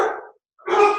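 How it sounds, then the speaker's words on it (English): Dogs barking indoors during a rainy day, two loud, close, gruff bursts separated by a short pause, with no talk over them. "my dogs are barking"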